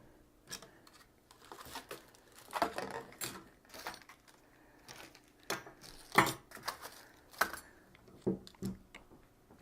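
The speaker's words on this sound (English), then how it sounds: "I'm going to pull this sticker off here." A sticker being peeled off a liquid CPU cooler during a PC build, a series of quiet crackling and tearing pulls with scattered sharper clicks and handling noises, close and faint, with no talk.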